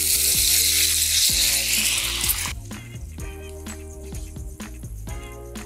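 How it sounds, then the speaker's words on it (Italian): Neapolitan sausages frying in a pan give a loud broadband sizzle that drops off abruptly as white wine goes in, leaving a softer bubbling hiss under background music, no talking. "E adesso le sfumiamo col vino bianco."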